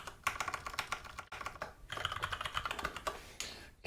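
Someone types a simple password on a computer keyboard: quick bursts of close, clattering keystrokes with brief pauses between runs, and no voices.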